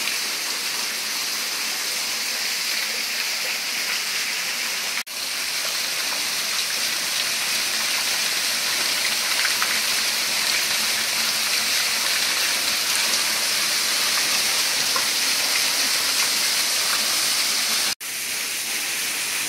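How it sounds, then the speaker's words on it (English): Underground waterfall in a cave where a stream drops to a lower level, a loud, continuous broadband roar of falling water, close and unbroken except for two brief cuts. "so we found another waterfall."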